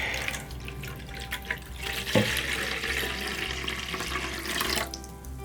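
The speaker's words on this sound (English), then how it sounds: "once you've got all that, you add in your warm water" Warm water is poured into a bowl of bread dough ingredients, giving a steady, close stream of running water that stops abruptly near the end, with no talk.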